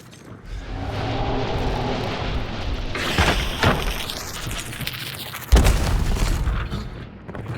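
Booming bomb lance explosions in a video game, a deep rumble building into a loud blast and then a second sharp burst, over a steady low background roar.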